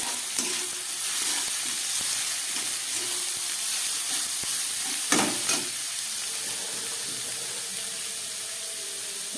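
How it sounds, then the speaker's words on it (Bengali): Capsicum, green chilli and peas sizzle steadily in hot oil, a close, continuous frying hiss with occasional stirring scrapes and clinks. "সমস্ত সবজিগুলোকে আমি তেলের মধ্যে দিয়ে দিলাম"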